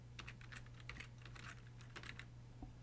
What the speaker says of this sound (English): type that name into the box